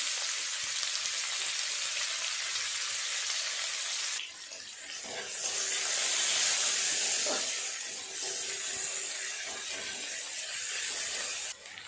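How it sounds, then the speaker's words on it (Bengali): Chopped large onion hits hot oil over fried whole spices and whole garam masala for a small-potato dum, giving a loud, steady sizzling hiss that dips midway and then swells again. "ফোড়নটা ভাজা হয়ে গেছে এর উপরে দিয়ে দেব কুচিয়ে রাখা পেঁয়াজ"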